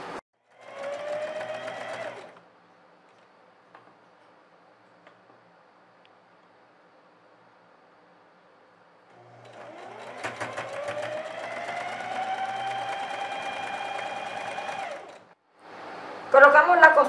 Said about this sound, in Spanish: realizamos una costura recta con overlock